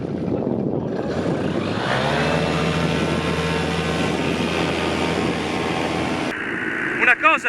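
Paramotor engine throttling up for takeoff, a loud close droning whine that rises in pitch and holds steady with strong harmonic buzz, amid wind noise and rustling, before dropping off near the end.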